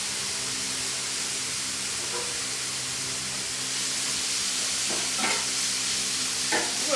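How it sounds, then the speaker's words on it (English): Turkey lunch meat sizzles on a Blackstone flat-top griddle, a steady broadband frying hiss running throughout at moderate level with a few brief scraping or crackling accents near the end, no talking. "A nice little sizzle."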